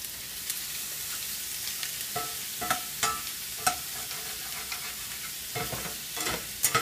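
Shrimp fry in butter in a pan with a bright, constant sizzle, broken by occasional louder clacks and stirring knocks up close.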